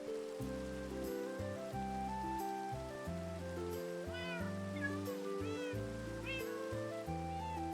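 Several Minecraft cats of different breed variants meow one after another in the game world, the high rising mews close and repeated over a steady background of music and rain-like patter.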